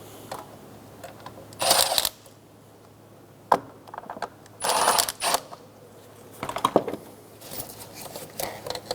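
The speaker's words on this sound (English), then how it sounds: "Using an 8mm socket, we're going to loosen the 2 hose clamps." An 8mm socket loosens hose clamps on the air intake hose of a 2007-2012 Nissan Altima. Short bursts of close ratcheting clicks repeat several times, with sharp isolated taps between them and quiet gaps.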